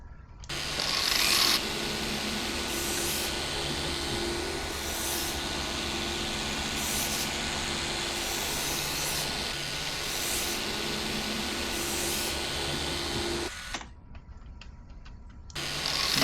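A power sander works a surface for about fourteen seconds, a steady close abrasive whir with rhythmic scraping passes, then the motor cuts out and leaves a brief quieter stretch.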